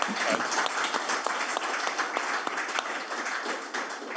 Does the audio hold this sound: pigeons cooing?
no